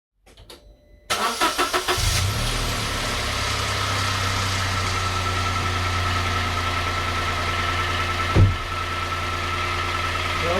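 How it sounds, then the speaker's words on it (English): A Toyota Aygo 1.0 liter engine, fitted in a Yaris, cranks briefly and catches, then settles into a steady, even idle close by, with a short rev blip near the end. "Now I will just start up the engine just to make sure that there's nothing leaking or something obvious like that."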